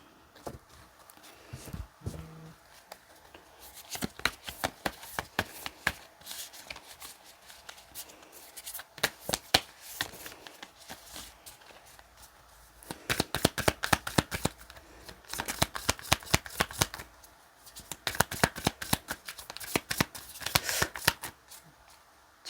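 Flower-meaning cards shuffled by hand for a card reading, dense bursts of quick papery riffling and flicking that stop and start in several rounds, close and fairly soft.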